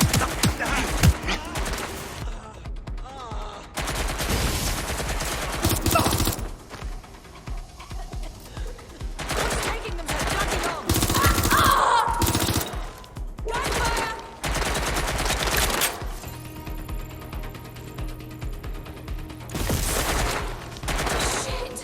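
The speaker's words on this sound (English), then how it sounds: "Shots fired." Bursts of gunfire in Watch Dogs Legion, rattling in repeated loud volleys with brief gaps over about twenty seconds, mixed with game effects and a few voices.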